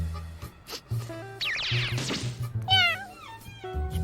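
A cat meows a few times in short rising cries, close and clear, mixed with voices and cartoon effects.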